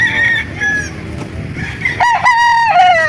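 A bullstag gamefowl rooster crows loudly and close at a gamefowl market in Calauan, two drawn-out crows with clucking and market murmur beneath.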